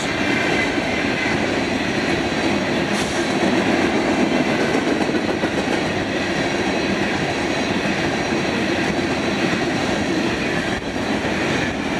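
A Florida East Coast freight train with a string of trash cars rolls steadily past, giving a continuous loud rumble and wheel clatter throughout, with no voices.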